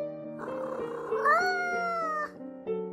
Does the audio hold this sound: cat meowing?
yes